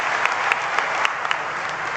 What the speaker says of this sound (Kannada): ಈ ಮಕ್ಕಳ ಪ್ರೀತಿಗೆ ಬರಲಿ ಚಪ್ಪಾಳೆ.